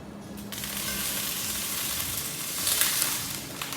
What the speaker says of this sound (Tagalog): I'll start pan grilling